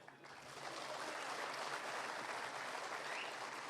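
A large crowd at a political rally claps in a broad, even wash of applause that swells after a quieter start and holds steady, somewhat distant.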